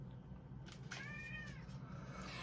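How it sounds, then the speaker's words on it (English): A domestic cat meows softly indoors, giving a few faint, drawn-out calls close by against quiet room noise. "And if you hear that meowing, that's my cat, Pete."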